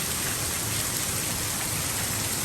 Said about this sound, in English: I hope it rains like this for an hour